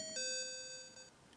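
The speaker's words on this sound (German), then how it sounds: "Durchsage. Gong." An announcement gong from the Pokémon Yellow video game: a single bright electronic chime with a clear pitched tone that rings briefly and fades within about a second, alone and clean.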